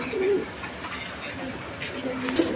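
Pigeons at a pigeon farm give soft, throaty coos close by, a short burst at the start and another near the end, over a busy background.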